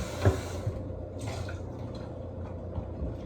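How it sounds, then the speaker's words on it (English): A cornbread baking pan is rinsed out with water, giving a short splash and light drips and trickles nearby, fairly quiet, with no speech. "You know, you gotta get your pan and wash it out."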